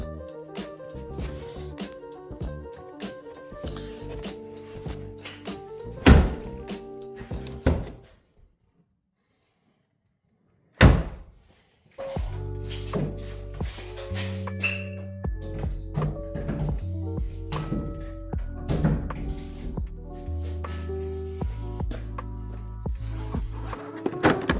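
Jeep Wrangler doors being fitted and closed: a run of metallic clunks, knocks and scraping handling noises, a pause of near silence, then a sharp thump followed by more rattling and heavy fitting sounds, close by.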